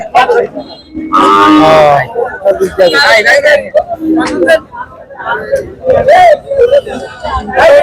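Cattle bellow in long, loud moos at a busy livestock market in Hatiya, Noakhali, as people talk close by and voices babble in the background.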